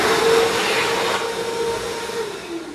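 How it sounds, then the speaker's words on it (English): An electric hand dryer blows steadily in a high school bathroom, a loud continuous whooshing roar with a faint motor whine that holds at an even level throughout, with no voices. "Then you got these hand dryers again."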